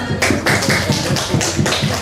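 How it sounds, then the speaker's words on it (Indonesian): A group of elementary schoolchildren claps together in a quick, steady rhythm during a classroom quiz, the sharp claps loud and close, repeating about every quarter second with no talking. "Oke, tepuk tangan."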